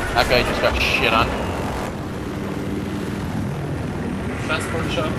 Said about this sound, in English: Transport chopper above us.